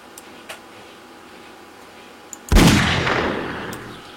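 .44 Magnum hand cannon fired in a video game: one loud, sharp blast with a long decaying tail after a quiet stretch of faint clicks.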